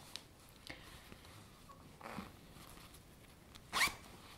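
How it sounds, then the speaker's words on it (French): Zipper on a small hand-knitted coin purse, heard as a few faint, soft zips and rustles followed by one brief, sharper zip near the end, alone in a quiet room. "Avec une fermeture éclair."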